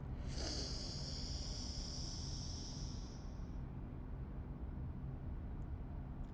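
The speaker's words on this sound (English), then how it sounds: "Okay, then you breathe in." A single long inhale through one nostril, a close airy hiss that fades after a few seconds into quiet room noise.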